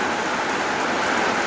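Steady rain falls in a dense, even hiss that holds at a moderate level throughout, with no voices.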